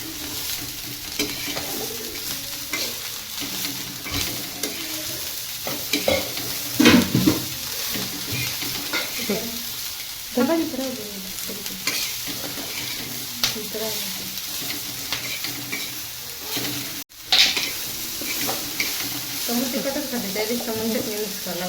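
Spiced food fries and sizzles steadily in a home kitchen pan while being stirred, with occasional clinks of utensil on metal and voices talking over it.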